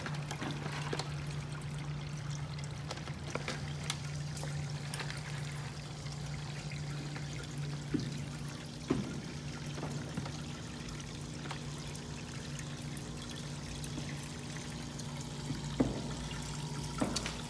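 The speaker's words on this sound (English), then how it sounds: "the water from the aquarium being pumped into this grow bucket" An aquarium pump pushes water from a 10-gallon tank into a grow bucket in an aquaponics setup, producing a steady trickling, pouring flow with a low hum and occasional faint clicks.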